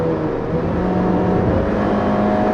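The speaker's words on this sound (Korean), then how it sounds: "엔진 소리는 제법 크게 올라오고요" A 2016 Honda HR-V engine pulls hard under full throttle at highway speed, a steady droning roar with road noise that stays loud and even throughout, with no talking.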